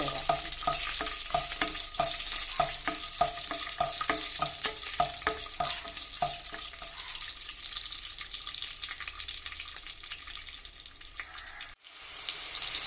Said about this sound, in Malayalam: കാഷ്നട്ടും മുന്തിരി ഞാൻ വറുക്കാനിട്ടിട്ടുണ്ട്.